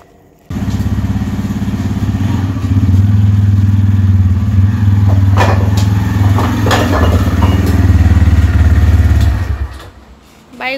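A motorcycle engine runs loud and close for most of the scene, a steady low drone with clattering knocks on top as the bike is moved up, before cutting off near the end.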